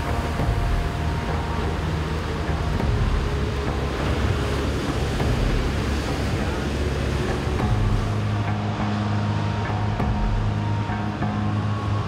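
Huge ocean waves break at Nazaré, Portugal, a continuous loud roaring wash of surf with steady rumbling low end and wind noise on the microphone throughout.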